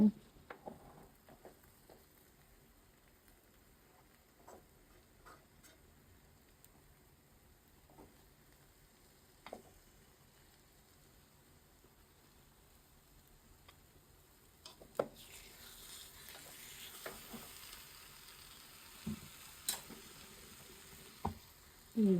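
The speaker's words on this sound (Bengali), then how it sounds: "এই যে কচু পাঁচ পাতায় মাছ ভাজাটা এখন আমি উল্টে দেব" Hilsa fish wrapped in taro leaves fries in a pan with a soft, steady sizzle and scattered sharp clicks, swelling louder and brighter over the last few seconds.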